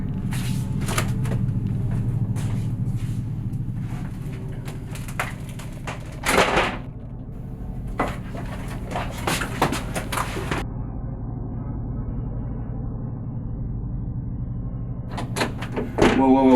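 A door opens and closes with wooden knocks and clunks against a steady low background hum, brief sharp bangs standing out, and faint sounds trailing off.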